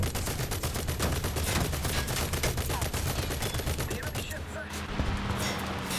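Constant rapid gunfire in a War Thunder naval battle, a dense run of shots from ship guns that keeps going at an even loudness. The firing thins out toward the end.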